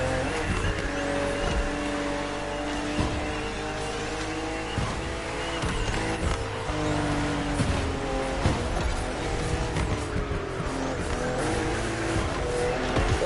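A BMW M car, a CSL anniversary model, driven hard in the racing game The Crew Motorfest: a loud, continuous engine roar with rising and falling revs and gear shifts, mixed with tire squeal.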